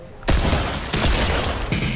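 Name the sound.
pistol gunshots in the video game Fortnite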